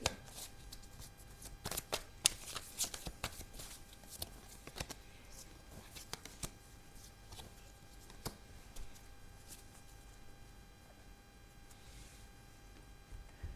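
Tarot cards are shuffled by hand close up in quick, irregular riffles and soft slaps, faint and continuous with scattered sharper snaps.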